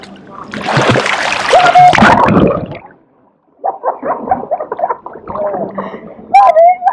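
A person splashing while swimming in warm water at a Portland, Jamaica swimming spot, with loud bursts of splashing in the first three seconds, then choppy gurgling strokes after a short pause, and a voice heard among the splashes.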